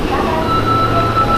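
Japanese train running near Hanazono-cho station, a steady loud rumble with a sustained tonal whine throughout, heard from close by inside the train or on the platform.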